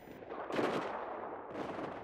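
A beacon explodes in a video game with a loud broadband blast that swells into a sustained rumbling roar, then surges again near the end. No talking.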